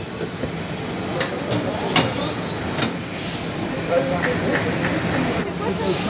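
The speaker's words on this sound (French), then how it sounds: "il passe à la presse qui va gonfler à l'intérieur, qui va se resserrer autour de la forme" A shoe factory press inflating inside and tightening around the shoe last gives a steady pneumatic hiss, with sharp clicks and clanks from the production line and some faint background talk.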